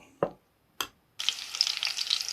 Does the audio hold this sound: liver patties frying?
yes